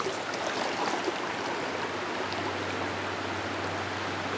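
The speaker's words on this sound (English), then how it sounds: "Hanging out up here in this little creek" A small creek flows steadily beside a river, a constant broadband rush of water that stays even and fairly close with no voices.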